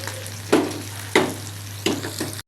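Onions tossed into hot oil in a pan, three loud bursts of sizzling spaced about half a second apart, each fading into a steady frying hiss over a low hum.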